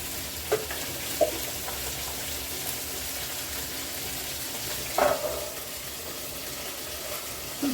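Onion, ginger and garlic frying in a pan make a continuous, fairly quiet sizzle, broken by a few brief clinks and scrapes of stirring.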